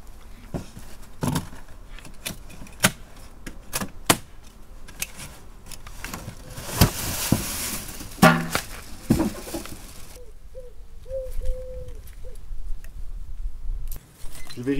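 Unpacking an air conditioner's outdoor unit: scattered clinks, taps and rustles of handling packaging and parts, close and uneven, with a brief burst of louder rustling midway.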